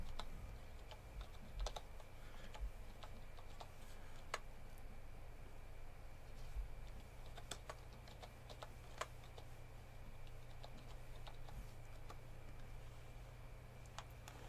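Fingers type on one of several computer keyboards in a room, with a steady run of light close keystroke clicks and no talking.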